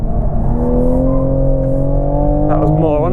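A 2020 Toyota Supra cornering hard on a race track, its engine droning loud and steady from inside the cabin, the pitch sliding slowly, with a brief tyre squeal near the end.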